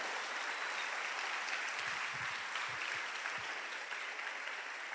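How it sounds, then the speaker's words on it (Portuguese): A church congregation claps together in a soft, even, continuous round of applause that holds for a few seconds without letting up. "Dê um aplauso ao Senhor por isso."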